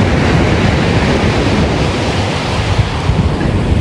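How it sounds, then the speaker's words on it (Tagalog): Ocean waves rolling onto a shore, a loud continuous roar of surf with rumbling wash, heavy wind buffeting the microphone throughout. "Alam na po ni Teo pag may padating na alon"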